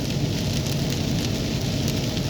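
Steady rain falls in Mudurnu, Turkey, a constant close hiss of drops spattering on surfaces with no pauses and no voices.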